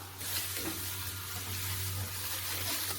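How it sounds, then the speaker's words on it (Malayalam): Soya chunks coated in turmeric, chili powder and salt frying in hot oil, a steady close hiss and sizzle with a faint low hum underneath. "ഇനി കുറച്ച് ഓയിൽ ഒഴിച്ച് ഒന്ന് ഫ്രൈ ചെയ്തെടുക്കാം"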